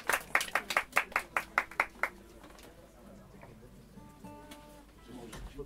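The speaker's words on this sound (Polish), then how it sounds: "No to brawa dla debiutanta." Clapping from a small group greeting a debut performer, about a dozen sharp claps in a steady rhythm over two seconds, then fading into quiet room sound with faint voices.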